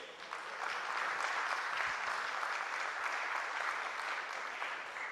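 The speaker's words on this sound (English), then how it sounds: "Big applause for Gianluca Iacus." A crowd at a world shooting championship final for mixed 50m rifle prone claps in a steady, full round of applause that swells in and holds evenly, with no voice over it.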